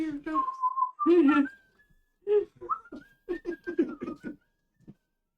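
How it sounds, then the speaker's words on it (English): Whistling from a player at a tabletop role-play session, jaunty and wandering, with short bursts of voice mixed in and several rising whistled notes, close and moderately loud. "You got to give a good nonchalant whistle."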